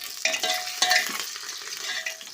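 Onions frying in oil in a pan for a homestyle chicken curry, with a steady bright sizzle broken by a few louder stirring scrapes, close and alone.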